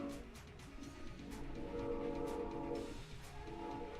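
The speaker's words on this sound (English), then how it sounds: "I live vaguely close to a train track, so if you're watching this, you can probably hear the train." A train passes along a nearby track, its steady rumble and rail noise swelling through the middle and holding as a constant background layer with some tonal horn-like lines.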